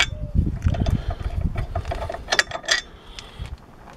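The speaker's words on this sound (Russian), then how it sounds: "Откручиваем болты полностью." Ratchet wrench unscrewing bolts on a VAZ 2107 car's steering linkage, close-up bursts of metallic clicking and clanking with short pauses, fairly loud and with no speech.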